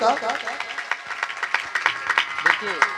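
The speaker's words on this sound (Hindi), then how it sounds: "जोरदार की ताली से स्वागत करें इन बच्चों का" Crowd clapping during a Ram Katha religious discourse in Bhagalpur, welcoming children: scattered, uneven claps from a gathering, heard under a man's continuous speech.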